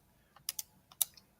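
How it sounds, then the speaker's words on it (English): A few light key presses tapped on a calculator keypad, about five soft clicks in an uneven rhythm, close and quiet with no talking. "So take a calculator and type them in."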